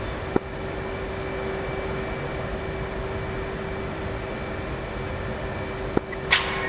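Steady broadband engine roar of a jet aircraft taxiing toward the runway in the flight simulator game DCS World, continuous and fairly loud with a constant whine, punctuated by a couple of brief clicks near the end.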